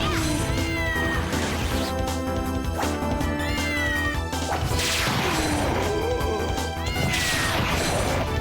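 A cat struck repeatedly in a video game, giving meows and caterwauls mixed with smashing and thwacking impacts over a dense, loud bed of game music and effects that runs throughout.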